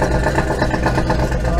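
A car engine fitted with Holley Sniper EFI idling just after starting: a loud, steady, close rumble with a slight pulsing rhythm and no throttle changes.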